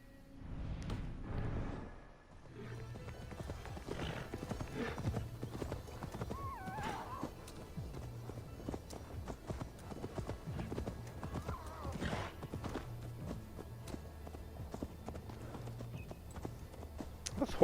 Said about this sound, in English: This horse is like real struggling to climb these hills.